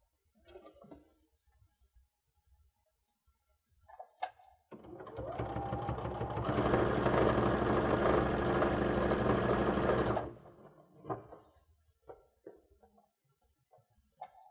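A sewing machine stitches quilt binding with a quarter-inch seam, running in a close, steady whir for several seconds, with quiet handling rustles and small knocks before and after.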